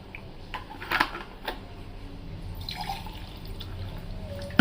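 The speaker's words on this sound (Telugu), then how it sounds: "సో ఫస్ట్ ఇప్పుడు మనం వాటర్ పోద్దాం." Water trickles and splashes softly into a container, with a few small knocks and drips along the way.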